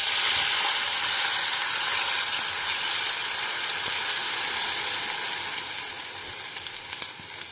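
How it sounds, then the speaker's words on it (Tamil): Mustard seeds and asafoetida spluttering in hot oil for a tempering, a steady close sizzling crackle with fine pops that eases slightly toward the end. "கடுகெல்லாம் நல்லா பொரிஞ்சுடுத்து."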